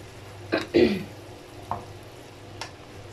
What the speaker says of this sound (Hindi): अच्छे से मिक्स करेंगे ताकि सॉस जो है वो थिक हो जाए